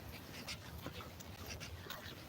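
A large, strong, high-energy dog pants steadily on a walk, quick breathy huffs running continuously close by with no talking over them.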